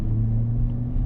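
A 2019 Chevrolet Silverado RST pickup engine accelerates on the highway, a steady, loud low rumble with a droning hum filling the cabin throughout the short stretch.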